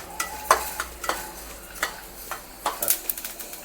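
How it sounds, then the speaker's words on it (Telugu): Flax seeds roasting dry in a pan, with soft crackling pops and the scrape of a stirring spoon in irregular bursts, close and fairly quiet. "అట్లా చిట్టపట్టలాడేటట్లు అవిసె గింజలు వేయించుకోవాలి."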